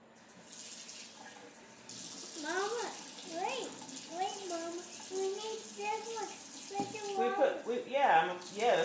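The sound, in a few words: water poured into a dish for mixing eggs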